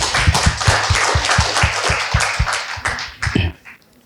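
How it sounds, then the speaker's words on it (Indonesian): Rhythmic clapping from an audience applauding the founder at the launch of a dental school faculty, steady beats about three per second, close and fairly loud, tapering off near the end. "tepuk tangan untuk founder"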